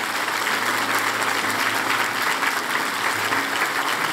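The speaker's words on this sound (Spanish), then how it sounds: "Dar un aplauso a Jesús." A church congregation in Mexico City applauding together, sustained dense clapping from many hands that fills the space evenly from start to finish.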